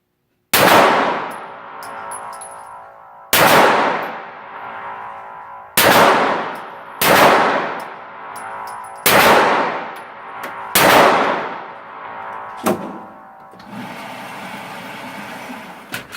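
Six loud pistol shots come from a race gun at an uneven pace, each crack ringing out sharply before it decays. A fainter metallic clink follows near the end, and no one speaks.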